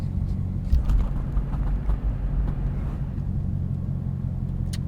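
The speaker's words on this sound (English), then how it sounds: "that's a lot of traffic" A steady low rumble of cars passing on a road, moderately loud, with engine drone and occasional tire noise, no talking.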